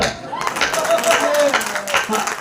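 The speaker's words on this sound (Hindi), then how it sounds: "ताली बजा" An audience at a Hindi comic poetry recital claps in a quick burst of scattered hand claps, while a voice talks over the clapping throughout.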